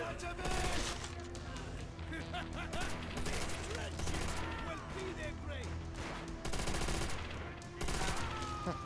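Gunfire in the video game Call of Duty: World at War, a dense, continuous din of overlapping rifle and machine-gun bursts that stays loud for the whole stretch and swells near the end.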